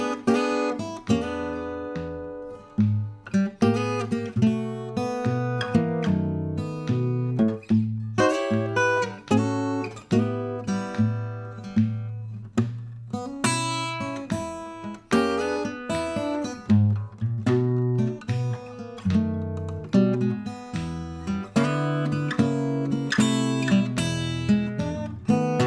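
Fingerstyle acoustic guitar plays an eight-bar blues in E, carrying melody over a steady alternating bass with clear plucked notes and chords, close and continuous with no voice.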